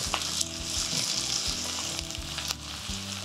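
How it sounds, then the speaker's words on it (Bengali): Potatoes fry with salt in a pan, giving a steady, loud, close sizzle with faint stirring scrapes underneath. "আলুটা হালকা লাল করে ভেজে নেওয়া"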